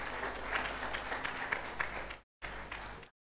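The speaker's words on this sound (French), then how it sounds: "Applaudissez pour lui." Church congregation applauding during a Sunday worship service, a steady wash of hand claps that runs for about two seconds, breaks off briefly, then resumes and stops.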